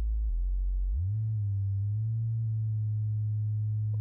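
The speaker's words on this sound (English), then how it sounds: "We're back listening to our plain sine wave." A steady, pure electronic tone, low and continuous, that steps up slightly in pitch early on and then holds evenly to the end.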